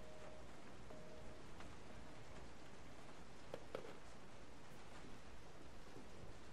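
Steady rain falls in Resident Evil 7, a dense, even hiss filling the scene with a few faint knocks and drips standing out briefly, continuous and moderately distant, with no voices over it.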